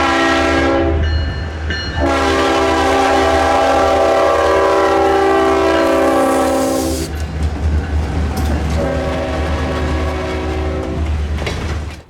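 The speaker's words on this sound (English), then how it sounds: "as the train was reversing for its roll-by inspection" Loud diesel locomotives rumble steadily while reversing, with strong engine drone and horn-like tones, wheels clacking faintly as the train moves slowly.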